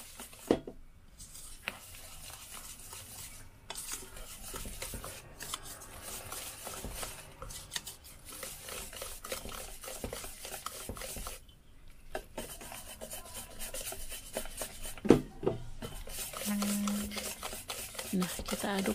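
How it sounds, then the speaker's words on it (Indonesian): Batter for martabak lenggang being stirred in a bowl, a steady soft rasping and scraping with occasional light clinks of utensil against the bowl, close and fairly quiet, with no talk. "Kita aduk sampai semuanya tercampur rata."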